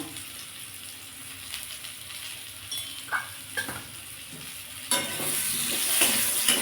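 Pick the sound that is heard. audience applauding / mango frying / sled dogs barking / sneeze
mango frying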